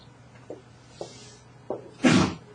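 A single forceful human sneeze in a classroom, preceded by three small sharp knocks or taps, the sneeze loud and close near the end.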